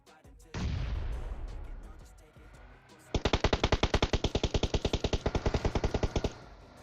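Loud PUBG Mobile gunfire: a sustained burst of noise, then a long rapid run of evenly spaced automatic shots, close and continuous.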